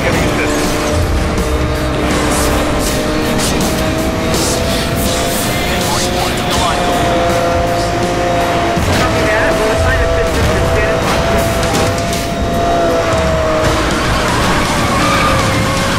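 Race cars roar through a Need for Speed Most Wanted 2012 race with spike strips and five racers, engines droning loudly throughout with tire squeals and skids, a voice talking over the action.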